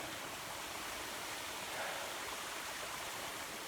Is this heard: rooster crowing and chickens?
no